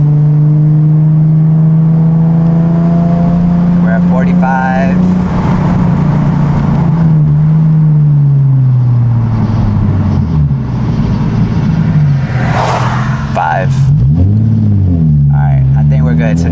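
A Nissan 370Z drives along with a loud, steady engine drone and cabin rumble, the engine note rising and falling slightly as it cruises, while people talk inside the car.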